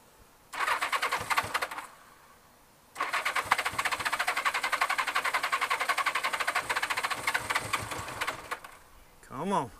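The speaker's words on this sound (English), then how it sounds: "She tried to start." A 1978 Honda GoldWing motorcycle engine cranks on the starter in two attempts, a short burst then a longer steady rhythmic churning without catching, loud and close, with a brief whistle-like sound at the end.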